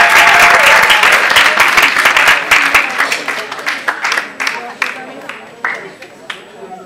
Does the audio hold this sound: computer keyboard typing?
no